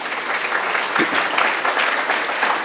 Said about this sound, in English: let's give them all one more round of applause